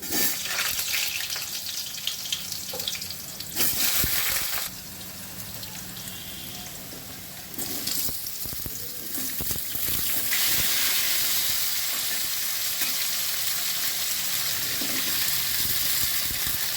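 Potatoes frying in hot oil with dried red chilies and five-spice seeds, a steady loud sizzle throughout, with bursts of harsher crackle and spatter. No talk.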